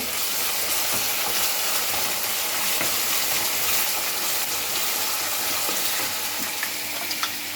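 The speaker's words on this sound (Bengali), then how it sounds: "এদিকে পেঁয়াজটা ভাজা হচ্ছে" Onions sizzle steadily in hot ghee and oil, a loud, continuous crackling hiss with a few faint clicks near the end.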